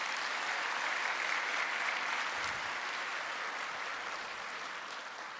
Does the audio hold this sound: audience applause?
yes